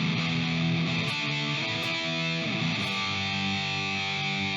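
An electric guitar played through a Tank G multi-effects unit on its distortion drive setting, sustained thick distorted chords changing every second or so, loud and steady with no talking.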